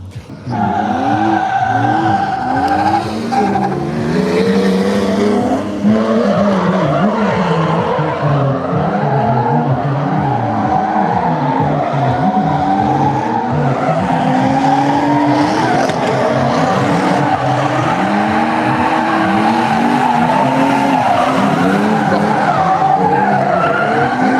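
Drift competition cars, including a BMW as the chasing car, skidding with continuous loud tire squeal and roaring, revving engines. The sound is sustained, close and dense throughout, and an announcer speaks faintly underneath.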